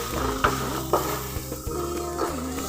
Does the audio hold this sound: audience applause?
no